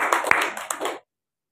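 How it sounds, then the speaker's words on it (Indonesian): A church congregation claps hands in a short burst of about one second, a loose cluster of sharp, close claps that stop abruptly, with no talk. "berikan tepuk tangan buat Tuhan Yesus."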